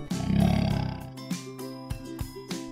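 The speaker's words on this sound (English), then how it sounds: "Lion." A lion gives one loud, deep roar in a children's animal alphabet cartoon, followed by several shorter, sharp thuds and bursts.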